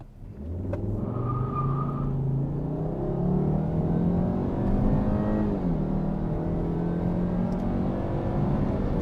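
A Volvo C70 T5 with a five-cylinder engine pulls away from a stop, its engine note rising steadily in pitch as it accelerates, heard from inside the cabin with a constant rumble.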